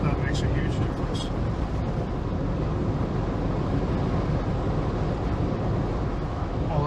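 Steady broadband wind roar inside a 2022 Jeep High Tide with a hard top while driving, a constant loud rush with low rumble filling the cabin throughout, with no voices over it.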